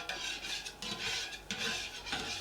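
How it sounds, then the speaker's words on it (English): A spatula scrapes browned fond off the bottom of a pan with shallots in it, giving repeated rough rasping strokes. The strokes are close and fairly quiet, with no talking. "we're just going to use our spatula to give it a good scrape so that all that fond gets sucked in by the shallots"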